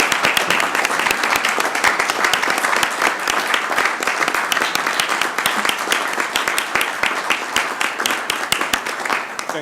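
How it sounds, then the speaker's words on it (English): A city council meeting audience applauds a newly appointed member with steady, dense clapping that fills the room and holds throughout without a break. "Let's give Julius another round of applause."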